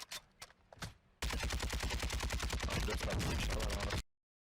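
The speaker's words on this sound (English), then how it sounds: "Let's see where he carries on shooting now." Rapid automatic gunfire in Call of Duty Warzone, a sustained fast burst of sharp shots lasting a few seconds and ending abruptly, preceded by a few quieter isolated shots.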